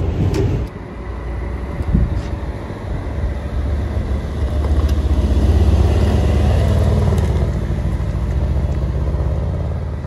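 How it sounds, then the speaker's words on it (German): A Mercedes-AMG car rolls along at walking pace on a test drive, its low engine rumble steady and close for the whole stretch, with a brief knock or thump near the start and no talk. "machen wir jetzt erstmal die Probefahrt"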